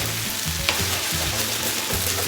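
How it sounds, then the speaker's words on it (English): Lao-style fried noodles (kua mee) sizzle steadily in a hot pan while a plastic spatula scrapes across the bottom in a repeated rhythm, close and fairly loud, with no talking. "I don't want to use my metal spoon scraping the bottom of the pan."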